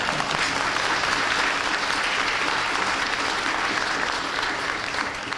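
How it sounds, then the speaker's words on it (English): A steady, full round of applause from the audience at the American Chamber of Commerce annual general meeting in Taipei, thick, even clapping that holds for several seconds before easing slightly. "I think you should give yourself a round of applause."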